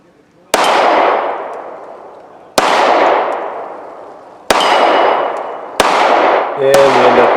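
Four sharp 9mm pistol shots strike a steel spinner target at a two-gun action match, each crack followed by a long ringing metallic clang that fades slowly, with a final sustained tonal ring.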